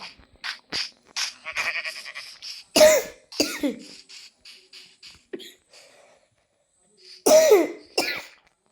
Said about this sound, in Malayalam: നല്ല ചുമ.